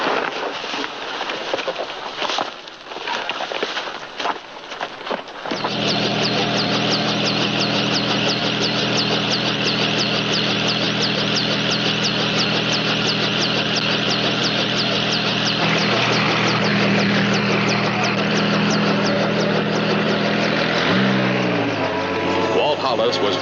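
A helicopter engine and rotor run with a steady, loud droning hum that builds after a few seconds and continues throughout, with voices talking over it.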